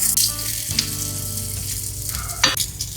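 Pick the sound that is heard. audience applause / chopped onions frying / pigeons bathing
chopped onions frying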